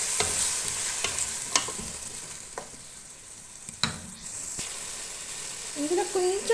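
Chopped tomatoes hit hot oil with ginger garlic paste for biryani, giving a bright hiss and sizzle, stirred with a few utensil scrapes and clinks against the pan; a voice briefly speaks near the end.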